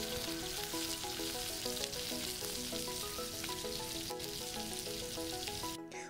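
Steaks and corn on the cob in husks sizzle over a large campfire, a steady close crackling hiss with background music playing throughout.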